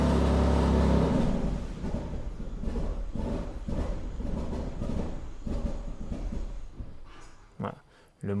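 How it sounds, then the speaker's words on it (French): A BMW's idling engine cuts out after a remote GPS tracker immobiliser is triggered: a loud, steady rumble drops away around the first second, leaving a quieter, uneven hum with knocks and clicks toward the end. "Le moteur s'éteint et bien évidemment impossible de redémarrer."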